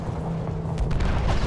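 An explosion goes off in the video game Battlefield 1, a deep, heavy boom that bursts out partway through and rumbles on at full loudness to the end of the short clip.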